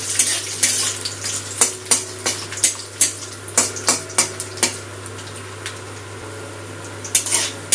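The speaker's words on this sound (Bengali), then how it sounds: "নারকেল আর বাদামটা একটু ভেজে নিয়েছি, খুব বেশি পোড়াবো না।" Dried coconut shavings and nuts fry in a pan over low gas, with a run of sharp, close spatula scrapes and clinks in an uneven rhythm over a faint, steady sizzle, trailing into quieter frying.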